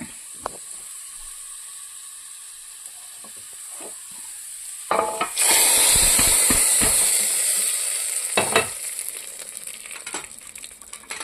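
Hot tempering poured into a lentil curry (parippu curry) bursts into a loud hissing sizzle after a few quiet seconds, then slowly fades with bubbling crackles and a spoon clink.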